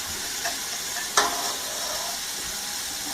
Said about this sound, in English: I like to use the whisk. It kind of makes mixing of the